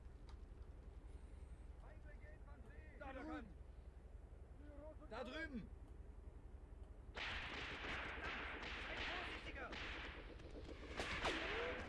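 Gunfire and artillery in the Graviteam Tactics: Mius Front war game: distant booms and shots early on, then a denser, louder burst of rapid firing in the second half, while someone talks over it.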